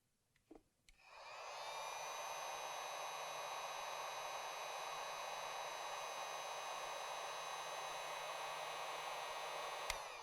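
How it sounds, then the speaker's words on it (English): A heat gun clicks on and then blows with a steady, loud whooshing roar and a faint high whine while shrinking heat-shrink tubing on guitar wiring for a Fender treble bleed circuit. "now I'm going to use my heat gun to shrink the tubing"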